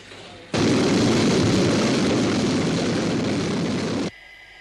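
The Sky 1 interceptor aircraft launches with a sudden, loud jet roar that starts sharply, holds as a dense, steady blast for about three and a half seconds, then cuts off abruptly.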